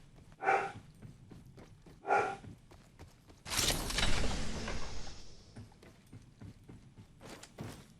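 Outdoor dog barking heard at a distance: two separate barks, then a longer rushing noise, and another faint bark near the end, with no talking.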